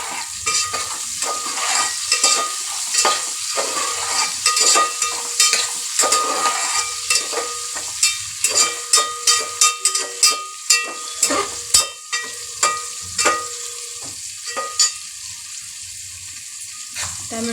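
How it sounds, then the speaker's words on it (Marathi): Chopped tomatoes frying with onion in a pan for dal, a steady sizzle broken by repeated scraping and stirring strokes of a spoon, close and fairly loud. "याच्यामध्ये आपण आता टोमॅटो टाकून घेऊ."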